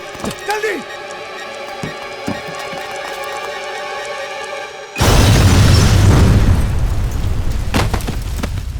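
A bomb goes off with a sudden loud blast that turns into sustained roaring, crackling noise for several seconds, following a stretch of tense music and short shouts.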